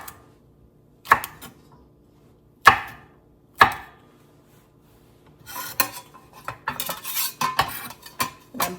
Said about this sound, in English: Now we have the serrano.